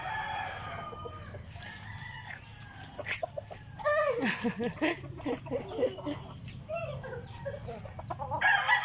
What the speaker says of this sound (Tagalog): Sige, tingnan mo yung mga chicken dyan.